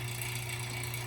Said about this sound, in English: right now it's idling.